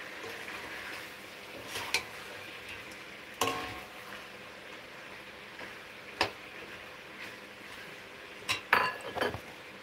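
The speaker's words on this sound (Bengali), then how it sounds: "আমার ছেলের জন্য একটু চিকেন কষা তুলে রাখি।" Spoon and pots clink while chicken kosha is served out at home, a few sharp metallic taps and scrapes spaced across a quiet background, with no talking.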